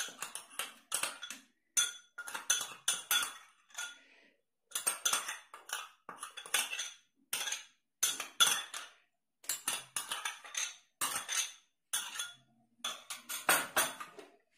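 Henna paste is stirred in a bowl, with a utensil clinking and scraping against the bowl in rhythmic bursts separated by short pauses, close and clear with no talking.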